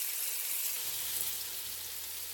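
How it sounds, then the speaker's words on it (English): Sausage for gumbo sizzles and fries in a pan with a steady, even hiss and no talking. "Okay, so that sausage is frying along nicely."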